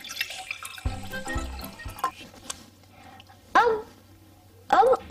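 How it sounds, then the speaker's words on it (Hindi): A little water is poured into a bowl to make tea, heard as short splashing bursts near the end, with someone talking earlier. "तो उसमें पहले हम लोग थोड़ा सा पानी डाल देंगे."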